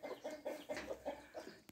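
A rooster and hen cluck in a farmyard, a quick run of rhythmic, close clucks, moderately quiet with no talking over them.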